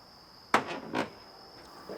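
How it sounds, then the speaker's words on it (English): A 2019 GMC Sierra Denali door scrapes against a bent fender tucked under it as it swings open, two or three short harsh grinding bursts over a faint steady whine. "that horrible sound is the door grinding on the fender as I open it because the fender's tucked up underneath it"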